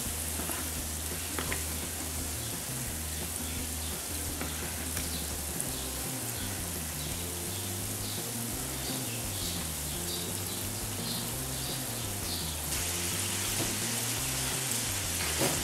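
Cheese-filled rice balls sizzle and crackle steadily in hot oil, a continuous frying hiss with soft music playing underneath.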